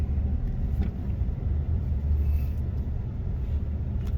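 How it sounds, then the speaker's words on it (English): A 2017 Ram 1500 pickup truck rolling slowly around a cul-de-sac, heard from inside as a low, steady engine and road rumble with no speech. "Right now I'm just driving around a cul-de-sac."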